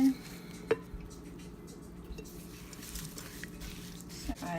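Homemade granola is stirred in a metal pot, with a single sharp clank as the pot is set back on the stove, followed by faint scraping and light clatter in a quiet kitchen.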